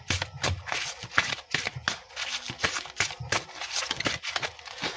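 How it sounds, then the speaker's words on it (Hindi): Playing cards being shuffled by hand for a Hindi tarot reading, a quick run of crisp riffling flicks and soft slaps, close up and steady, with no talking. "चलो करते हैं कार्ड्स की शफलिंग"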